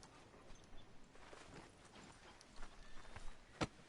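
Horse hooves clip-clop at a walking pace in the video game Red Dead Redemption 2, faint and soft, with a brief sharp click near the end.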